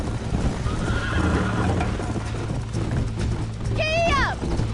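A horse in the Western video game Red Dead Redemption gallops with continuous hoofbeats under music, then lets out a loud whinny near the end while a voice calls out.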